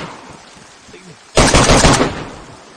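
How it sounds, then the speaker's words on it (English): Gunfire in the video game DayZ breaks out suddenly as a loud, close burst of rapid shots after a quieter stretch and lasts about half a second before trailing off. "Man, who is shooting?"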